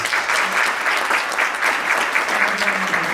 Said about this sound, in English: We want to give Representative Katko a round of applause, please.